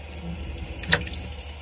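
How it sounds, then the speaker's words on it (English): Water runs steadily from a tap into a sink in a Compass Kensington CV20 caravan, a continuous soft splashing with one brief brighter splash near the middle. "That's your water getting warm there"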